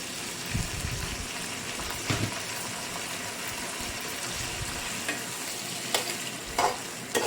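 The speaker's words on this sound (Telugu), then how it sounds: "ఇప్పుడు దీనిలో మిగిలిన పచ్చిమిర్చి, టమోటా, కరివేపాకు వేసేద్దాం" Green chillies, tomato and curry leaves go into a pan of frying onions and fenugreek seeds for a fish curry. A steady sizzle runs throughout, broken by scattered spatters and scraping stirs close by.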